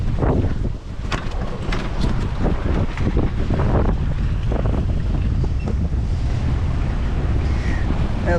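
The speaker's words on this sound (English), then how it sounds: "The wind's picking up." Steady wind rushes and buffets across the microphone aboard a singlehanded sailboat, with water sloshing against the hull beneath; the roar stays loud and continuous throughout, with no talking.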